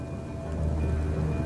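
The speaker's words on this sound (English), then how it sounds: "Weeks of unrelenting downpours drench the landscape." A heavy rain downpour drenches the landscape in a steady, dense, loud hiss with a low rumbling undertone, holding constant throughout with no voices.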